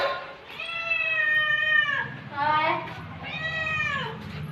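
A young cat in a village meows repeatedly in drawn-out, plaintive calls, three clear meows close by, with a faint low background hum.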